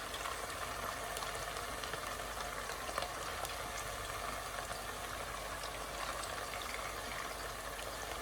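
Strips of crispy chilli beef fry in a pan for a stir fry, making a steady, loud sizzle and crackle of hot oil that runs unbroken throughout with no talk.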